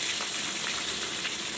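Fish fries in a pan with a steady, dense, even sizzle that hisses on continuously at close range.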